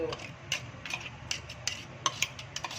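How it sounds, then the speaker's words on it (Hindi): A spoon clinks and scrapes against a cooking pot as about two tablespoons of ginger garlic paste go in alongside beef for paya, giving soft, irregular metallic taps close by with a faint sizzle underneath. "2 टेबलस्पून भरकर अदरक लहसुन का पेस्ट ये हमने डाला"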